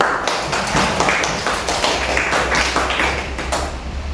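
A classroom of students claps hands together in a short burst of quick, uneven claps and taps, close and fairly loud, with no talking over it.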